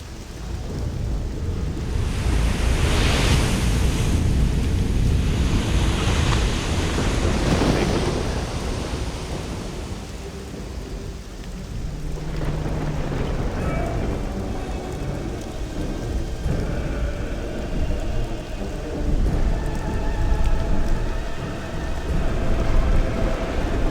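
Stormy seas in the video game Risen 2: heavy rain hisses steadily over surging ocean waves, with a deep rolling thunder swell in the early seconds and continuous loud wind-driven spray throughout.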